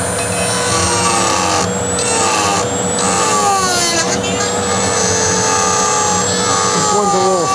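A Dremel rotary tool grinding, a loud, close, high whine that shifts pitch as it speeds up and slows under load, with a voice talking over it in places.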